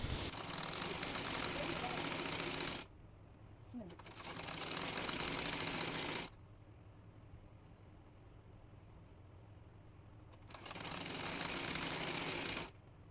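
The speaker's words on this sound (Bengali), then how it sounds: "এবার রাবারটি সেলাই করে নিয়ে সালোয়ারের সঙ্গে রাবারটি সেলাই করে নিচ্ছি" A sewing machine stitches elastic onto a salwar waistband in three loud, steady runs of about three seconds each, separated by quieter pauses where faint talk is heard.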